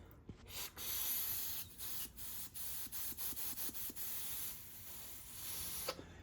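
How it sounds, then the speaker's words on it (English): Carb cleaner sprayed from an aerosol can onto a stuck carburetor on a 1966 Mustang, heard as a string of short hissing bursts, some longer and some quick, close up with no talking. "This is a can of carb cleaner."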